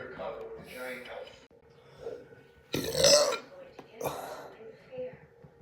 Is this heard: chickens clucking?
no